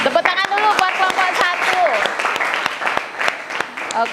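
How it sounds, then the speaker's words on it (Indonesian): Classroom applause from high school students for a presenting group, dense clapping with many sharp individual claps and some voices talking and calling out over it. "Tepuk tangan dulu buat kelompok"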